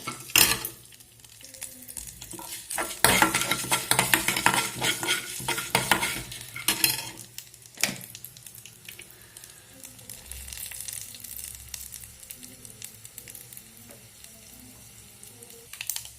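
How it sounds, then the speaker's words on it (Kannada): Urad dal tempering crackles in hot oil with turmeric, a busy sizzle and spattering broken by scrapes and clinks of a stirring spoon against the pan, loudest early and settling to a softer fry. "ಇದು ಒಗ್ಗರಣೆ ನೋಡಿ ಆಗಿದೆ ಉದ್ದಿನ ಬೇಳೆ ಎಲ್ಲ ಇದಾಗಿದೆ"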